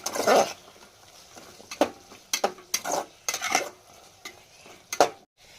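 A spoon stirs vegetables mixed with paste in a pan, giving repeated scraping clinks and soft sizzling in irregular bursts, close by with no talk.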